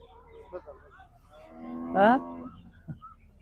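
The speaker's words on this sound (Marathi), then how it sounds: "या बाजारामध्ये आल्यानंतर सर्व क्वालिटीच्या गाय भेटतील आपल्याला" Cows at a cattle market in Ghodegaon give one loud, close moo in the middle, rising and falling over about half a second, with fainter animal calls and low crowd murmur around it.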